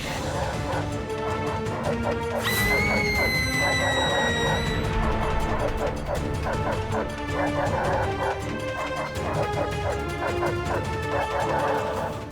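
Several dogs bark and yip repeatedly at close range over a dense background with music-like tones and a brief crash, the barking continuing throughout.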